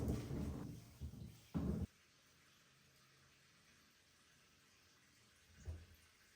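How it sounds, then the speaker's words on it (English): Water from a kitchen tap runs in a few short, splashy bursts while fresh vegetables are washed, then the room falls quiet before one last faint splash. "I first wash all the veggies thoroughly with the water"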